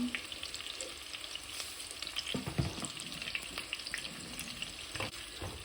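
Frozen garlic and onion fry in a pan for a fish-head muri ghonto, a soft continuous sizzle under occasional stirring scrapes and light clinks, fairly quiet and close.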